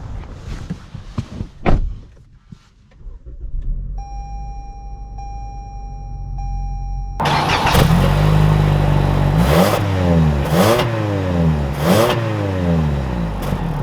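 A 2021 Toyota Camry with all-wheel drive: door thunks and a steady chime come first, then the engine starts and revs, with rising and falling acceleration sweeps, loud and close inside the car.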